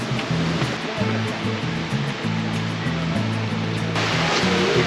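Waterfall at Plitvice Lakes National Park in Croatia, a steady, loud rushing roar of falling water that fills the whole clip without a break.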